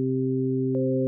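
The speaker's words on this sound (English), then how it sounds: "check out this series of sustained sine waves" Sustained sine wave tones from an Omnisphere synthesizer, several pure steady pitches stacked together as a smooth constant hum, with a slight click as another tone joins near the end.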